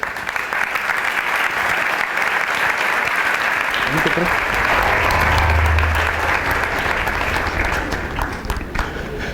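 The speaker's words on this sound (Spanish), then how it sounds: "Un fuerte aplauso para recibir a CAE" Loud, sustained audience applause welcomes a speaker at a banking talk in Panama, continuous clapping with crowd murmur and a brief voice partway through.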